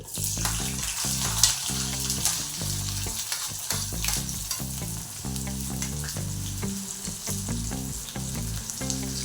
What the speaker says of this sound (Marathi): आता आपण याच्यामध्ये चिप बारीक अशा मध्यम आकाराचे कांद्याचे तुकडे घालून घेऊ